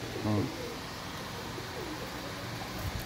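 Pigeons kept by a fancier in Jeddah coo softly, a low throaty burst early on and a faint call near the end, set against a murmur of background voices and ambient noise.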